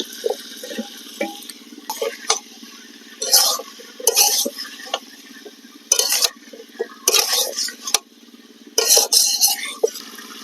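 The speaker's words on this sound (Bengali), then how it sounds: "লঙ্কা কুচি দিয়ে দিচ্ছি এবং ডুমো ডুমো করে কেটে রাখা আলু দিয়ে দিচ্ছি।" Diced potatoes and chopped green chillies tumble into a pan and are stirred, making several loud, close bursts of scraping and rattling over a steady low background hum, with no voices.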